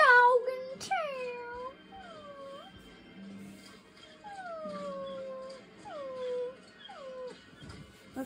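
A dog in the video game Dead Island whimpers and howls with a series of rising and falling cries, fairly close and alone, with brief low rumbles underneath.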